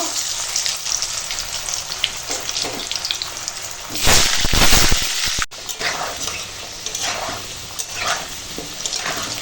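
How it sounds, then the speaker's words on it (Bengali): Potato pieces frying in hot oil in a home kitchen, a steady crackling sizzle throughout, growing louder and denser for about a second midway, with no one speaking. "তেল গরম হয়ে গেছে আর আলু ভেজে নেব"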